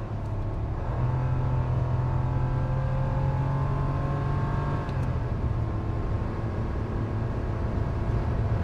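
A car with a CVT transmission accelerates at full throttle down a straight, its engine droning loud and steady, pitch rising slightly and then settling, with no talk over it.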